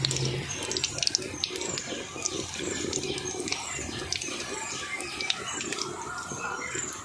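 Crackling, bubbling sizzle of bandage-style potato chops frying in oil over low heat, a steady busy patter with scattered pops.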